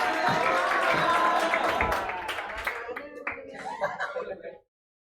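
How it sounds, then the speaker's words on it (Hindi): A classroom of students breaks into clapping and applause, dense at first and then thinning to scattered claps before stopping, with some chuckling and murmured voices mixed in. "ताली बजा दो।"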